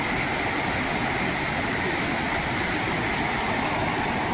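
A strong, constant rush of floodwater after heavy rain in a village in Madhya Pradesh, a loud, steady roar with no breaks.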